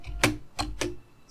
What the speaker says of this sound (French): je sais que vous entendez clairement mon clavier, là. Parce que c'est un clavier mécanique